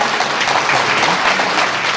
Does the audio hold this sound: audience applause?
yes